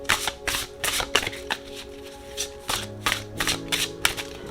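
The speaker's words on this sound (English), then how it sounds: "Let me go ahead and shuffle." Oracle cards being shuffled by hand, a close series of soft riffling flutters and taps repeated in uneven bursts, quiet and without speech.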